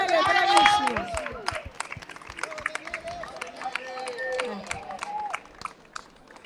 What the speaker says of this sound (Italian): Un applauso a Daniele, bravissimo.